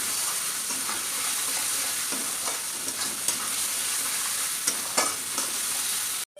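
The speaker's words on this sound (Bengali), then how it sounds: "জিরে গুঁড়ো, পরিমাণ অনুযায়ী হলুদ গুঁড়ো দিয়ে আরও কিছুক্ষণ কষে নেব" Spices with cumin powder and turmeric powder sautéing in hot oil for an egg dish, a loud continuous sizzle with occasional stirring scrapes, close and unbroken before a sudden cutoff at the end.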